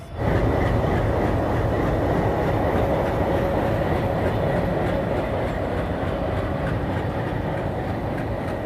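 A passenger train hauled by a WDM-3D diesel locomotive runs from Malda to Balurghat, a loud unbroken rumble of wheels and carriage noise heard from on board, with a faint steady whine over the steady roar.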